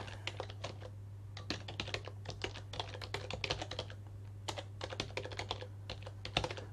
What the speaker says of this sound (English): Typing exactly the same